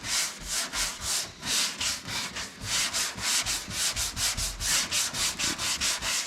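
Rhythmic hand sanding of a slightly curved car body panel with sandpaper, steady back-and-forth rasping strokes, close and even, repeating about three times a second with no talk.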